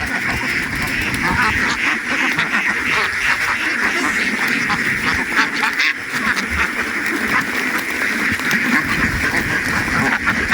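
A large farm flock of about 1,200 ducks quacking nonstop, a loud, dense chorus of overlapping calls close by for the whole stretch.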